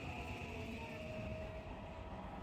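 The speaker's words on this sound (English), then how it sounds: "The train we're on today is one of these slower trains because it stops at every station" Inside a slow Japanese passenger train that stops at every station, near Kawagoe in Saitama Prefecture, a steady rumbling ride noise with a faint high whine and no talk.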